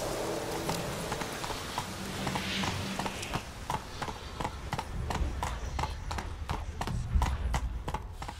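Hooves of a horse in The Witcher 3 beat in a quick, even clip-clop that grows denser toward the end, close and distinct over a low ambient rumble.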